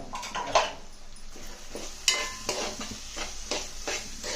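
A spoon stirs potato and chana dal curry in a pan after salt and chili powder go in, giving repeated close scraping and stirring strokes with a soft sizzle and no talking.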